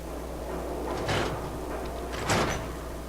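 A door opening in the video game Fallout 4, two separate sliding, scraping bursts about a second apart, each rising out of a low steady background hum.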